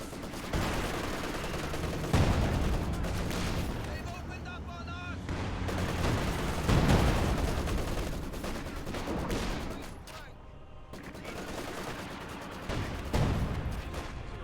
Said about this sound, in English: Penal squad getting suppressed by the MG.